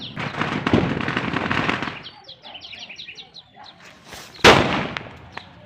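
Lakshmi firecrackers burst during Diwali celebrations with a long crackling roar, then a scatter of sharp smaller pops, followed by another loud close blast near the end.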